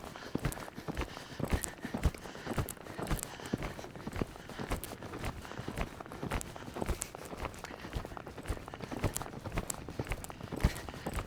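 A horse moves around an arena during a lope, its hoofbeats thudding in a fast, irregular rhythm at moderate distance, with faint background noise and no clear talk.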